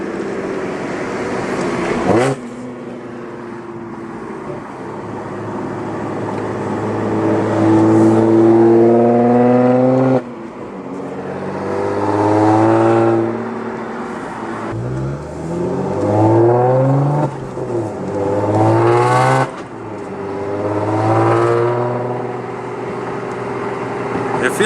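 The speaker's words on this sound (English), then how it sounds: "Just the exhaust setup is way too loud. The supercharger is totally drowned out by the exhaust." Supercharged Audi S4 fitted with a new velocity stack and air filter, its loud exhaust revving hard in repeated rising sweeps that bury the supercharger whine, close and sustained across the clip.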